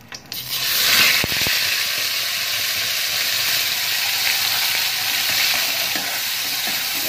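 Tomato and onion paste hitting hot oil in a pan where a dried red chilli was fried, with a sudden loud sizzle that settles into a steady hiss, plus a couple of sharp utensil clicks near the start.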